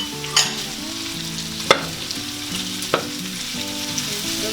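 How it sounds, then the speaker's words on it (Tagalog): Red onions fry with beef and ginger in a pan, giving a constant sizzle. A few sharp scrapes of stirring come at irregular moments, and no one speaks. "haluin lang po natin ang ating sibuyas."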